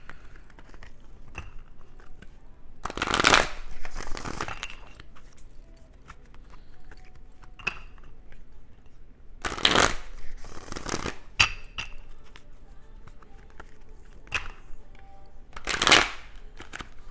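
A deck of chakra cards is shuffled in several quick riffling bursts separated by pauses, close and moderately loud, with small card taps and handling between.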